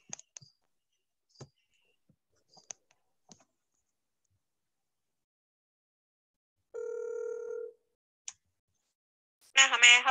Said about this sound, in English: Okay, Mio, I'm calling them.